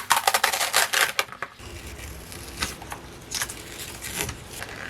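LOKLiK iCraft cutting machine working through material, a dense burst of rapid mechanical clicking and whirring up close for about a second, then quieter intermittent ticks and motor hum.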